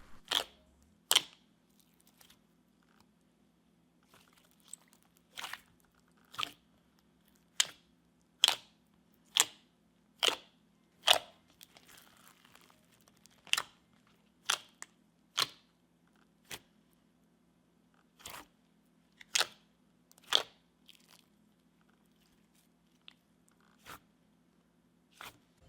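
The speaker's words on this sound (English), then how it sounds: "This one has the same really thick, really glossy, and clicky base that the pink one has" Thick, glossy, clicky slime is squeezed and pressed close up, giving sharp, isolated clicks and pops at irregular intervals over a faint steady hum, with no talking.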